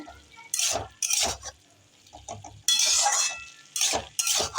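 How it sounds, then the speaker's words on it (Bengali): Chopped bottle gourd being turned and stirred in a cooking pan, with bursts of metal utensil scraping and clinking against the pan separated by quieter gaps, close and fairly loud. "আমি ভালো করে নেড়ে চেড়ে নিলাম লাউটাকে।"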